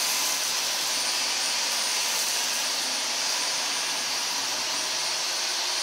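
Dyson V15 Detect cordless stick vacuum on normal suction, a steady airy high-pitched whoosh of the motor running close and unbroken, with no voices over it.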